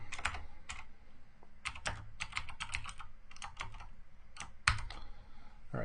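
PowerShell code being typed on a computer keyboard: close, crisp keystrokes in uneven bursts with brief pauses between words, a louder key strike near the end, no speech.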